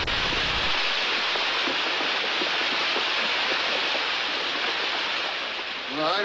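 Water pours through an irrigation head gate after its top planks are pulled, a loud, continuous broadband rush that stays even from start to finish with no voices over it.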